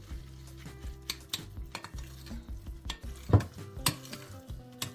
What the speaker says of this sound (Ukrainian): буряка столову ложку олії і перемішуємо